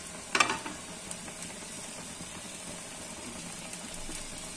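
Onions and a piece of ginger fry in a spoonful of oil, a soft steady sizzle after a brief clatter of stirring at the start.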